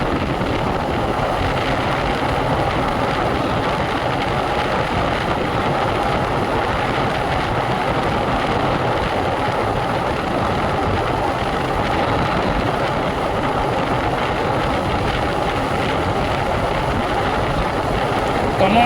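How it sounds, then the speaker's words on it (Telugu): A TVS Raider 125 motorcycle runs flat out at top speed with a steady, dense engine roar and heavy wind buffeting from an onboard position, loud and unbroken throughout. "బైక్ టాప్ స్పీడ్కి అయితే పుష్ చేసి చూద్దాం ఎంతవరకు వెళ్తుందో."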